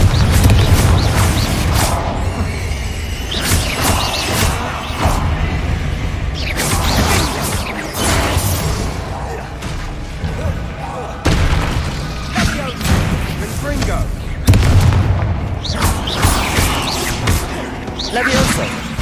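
Spell blasts from a fantasy action game, the Confringo fire blast among them: booming, crashing impacts and whooshes recur loud and dense through the stretch, layered with game music and effects, with speech over parts of it.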